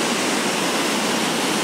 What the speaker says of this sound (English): these purple things are waterfalls